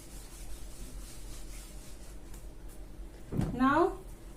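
Writing being rubbed off a board makes a soft, continuous scrubbing sound, and a voice briefly speaks near the end.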